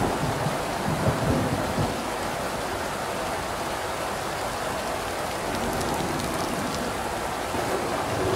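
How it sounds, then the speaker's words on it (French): Thunderstorm rain in the video game Inmost, a dense, steady hiss of heavy rainfall with a low rumble early on, heard alone without talking. "Quel joli orage."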